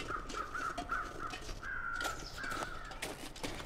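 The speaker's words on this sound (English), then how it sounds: "Oh, there are more crows over here, I think." Crows in The Long Dark caw in a rapid, harsh series of calls, close and fairly loud over a steady wintry ambient background.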